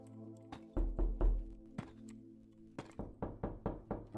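Discord's knock notification sound effect on a Minecraft livestream, a series of crisp, close wooden-sounding knocks in quick irregular bursts, repeated several times with short pauses, alone without talk.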